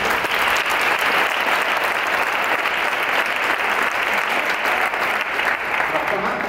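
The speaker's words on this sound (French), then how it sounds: "s'il vous plaît, une petite main d'applaudissements." Audience applause at a book launch event, steady dense clapping from a crowd, close and loud, sustained without a break for several seconds.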